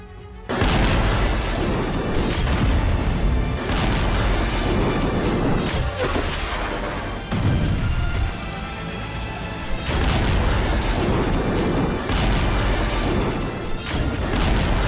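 Heavy booming blasts hit repeatedly, each a deep rumbling burst with crackling debris, several in a row with short gaps between.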